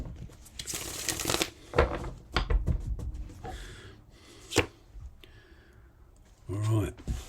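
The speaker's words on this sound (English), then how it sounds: "One more shuffle." Tarot cards shuffled by hand, giving a run of soft riffling, clicking and papery rubbing bursts, close and moderately quiet, in a sequence of separate handling sounds.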